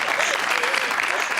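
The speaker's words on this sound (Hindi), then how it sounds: "तालियां।" A short burst of dense, close studio-audience applause on a live TV talk show, loud and continuous throughout.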